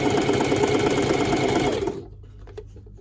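Sewing machine stitching silky skirt fabric in a fast, steady, loud mechanical rattle that stops abruptly partway through, leaving faint handling sounds.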